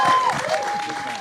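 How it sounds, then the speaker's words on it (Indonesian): An audience applauds a film director at a cast gathering for a television series, steady clapping and crowd noise filling the space, with a voice talking over it. "gak apa-apa kasih tepuk tangan, kasih waktu deh Bang Tito"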